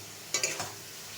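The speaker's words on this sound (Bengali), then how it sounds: "আমি ডিমটা দিয়ে দিলাম। ডিমটা দিয়েই কিন্তু আমি কষাবো।" Eggs dropped into spiced masala in a pan for a Bengali egg curry give a brief burst of sizzling and stirring, two or three quick crackling bursts close by, then quiet.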